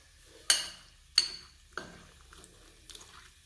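A spoon stirs yogurt with banana stem in a bowl, giving three sharp clinks against the bowl at regular intervals, followed by softer, fainter taps, in a quiet kitchen.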